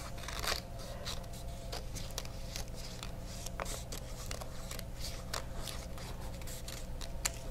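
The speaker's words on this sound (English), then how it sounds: "if your scissors are long enough and big enough and you want to try, you could maybe cut 2 or 3 at once" Scissors cutting paper in a craft lesson, a series of crisp snipping and rustling sounds in an irregular rhythm, close and quiet with no talking.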